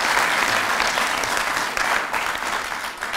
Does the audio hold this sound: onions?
no